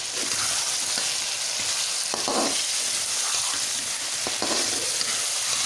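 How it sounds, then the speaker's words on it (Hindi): Radish and potato fried with green chilies for a curry, a dense steady sizzle of oil filling the whole stretch, with a couple of soft stirring scrapes, close and without talking. "अच्छे तरीके से हम इनको भून लेंगे।"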